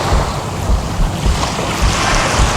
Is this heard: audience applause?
no